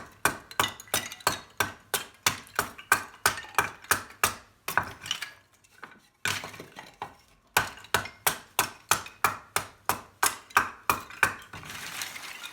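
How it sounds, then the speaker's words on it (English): White pine kindling being split with a hatchet: a steady run of sharp, close chopping strikes at a quick even pace, pausing briefly midway before resuming the same rhythmic cracks, with no talking. "This little jagged kindling I'm splitting up now."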